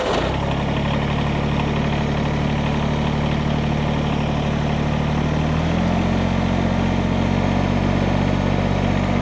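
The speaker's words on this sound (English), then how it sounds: "you can actually listen to the engine on the BX and know when you should pull the auger out of the hole and clear it" Compact Kubota BX tractor engine drives an auger boring a post hole for deck stairs, running steadily and loud throughout with no talk, its low drone shifting pitch as the load changes partway through.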